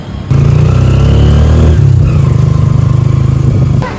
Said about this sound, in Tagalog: Nag-aabang na lang kami ng tricycle.